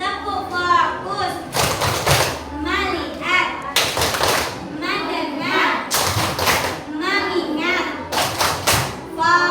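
A class of primary school children chants together while doing the 'tepuk fokus' clap routine, with bursts of clapping and thumping hits recurring in a steady rhythm amid loud group voices.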